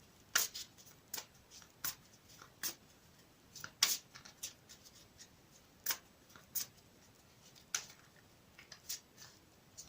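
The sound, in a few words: shuffling a deck of cards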